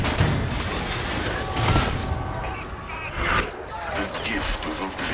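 Gunfire from the video game Warhammer 40,000: Darktide, with rapid bursts and booming shots in a dense, loud mix, while in-game voices speak over the combat.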